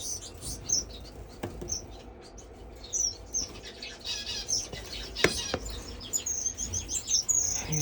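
Small finches in an indoor bird room give scattered high, bright chirps and tweets at moderate distance, with faint fluttering and occasional clicks over a low background hum.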